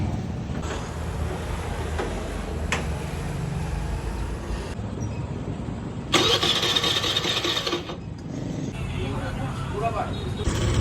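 A scooter's engine starts and runs steadily after a repair for a rotted wire, a mid-pitched motor hum that stays loud throughout, with voices talking over it.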